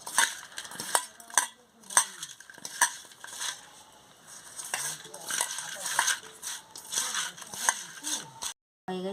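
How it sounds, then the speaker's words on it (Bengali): Fish is mixed by hand with turmeric and salt in a bowl, giving soft wet squelches and clinks against the bowl in irregular bursts, close up, while a person talks over it. "এই যে হলুদ দিয়ে দিচ্ছি, নুন দিয়ে দিচ্ছি, দিয়ে ভালো করে মাখিয়ে নিচ্ছি"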